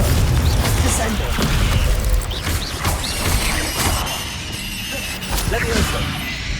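A Descendo slam spell in Hogwarts Legacy, heavy crashing impacts and booms among rapid-fire combat spells, loud and dense with shattering debris and voices over the fight.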